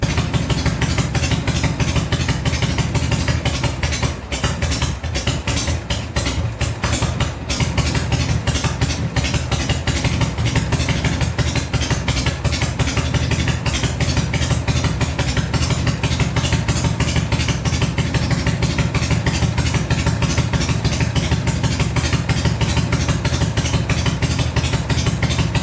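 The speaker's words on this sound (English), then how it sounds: "You can hear that the engine's idled up" A Harley-Davidson Shovelhead motorcycle engine idles steadily up close, a continuous rough, pulsing rumble with mechanical clatter that barely changes throughout.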